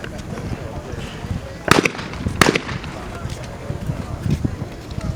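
Shotgun shots at a 28-gauge world skeet championship, with two sharp, loud reports about a second apart under steady commentary and outdoor background noise.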